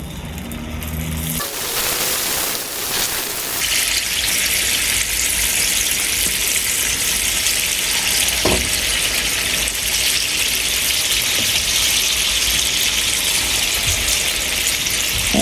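Unni appam batter is poured into hot oil and bursts into a loud, continuous bubbling sizzle. The sizzle follows a short quieter stretch with a clatter and carries on dense and steady with no talk.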